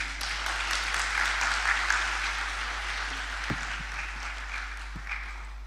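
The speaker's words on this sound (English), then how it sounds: "A round of applause again for Pinky." An audience at a talk on wealth creation applauds steadily, a dense wash of many hands clapping that slowly fades, with a couple of sharp knocks near the end.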